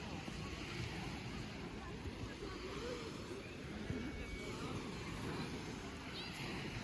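Sea surf on the beach at Palanga on a hot day, a steady broad wash of breaking waves mixed with gusty wind rumble on the microphone, continuous throughout.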